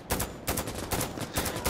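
Barrett .50 caliber rifle fired in the video game Insurgency, four sharp, heavy bangs spaced roughly evenly, each with a short ringing tail, loud and close.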